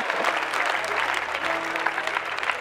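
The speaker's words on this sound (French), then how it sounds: "Acclamez le frère, il joue bien son rôle." Church congregation at a seminar bursts into steady, dense applause with a lively murmur of crowd noise running through it, the clapping sustained and fairly close throughout.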